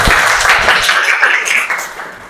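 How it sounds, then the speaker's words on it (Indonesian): A high school math class breaks into loud, close clapping, a brief dense burst of hands that carries on evenly without letting up. "sekali lagi tepuk tangan buat kita semua"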